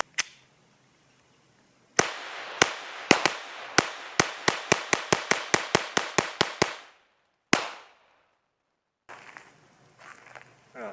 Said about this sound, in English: Just going to run 2 more quick mags through here just to make sure everything's functioning right,